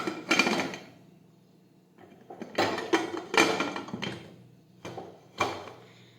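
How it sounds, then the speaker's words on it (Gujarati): A pressure cooker lid is fitted and closed while fenugreek leaves are being cooked, giving several close metallic clanks and scrapes in irregular bursts, each followed by a brief quiet gap. "હવે આપણે કુકરનું ઢાંકણ છે તે બંધ કરી દઈશું."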